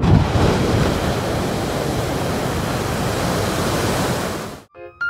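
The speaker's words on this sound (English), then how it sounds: "Geysers release hot water and steam from the ground." A geyser erupting, with hot water and steam bursting from the ground as a steady, loud broadband rush like roaring surf, which stops abruptly near the end.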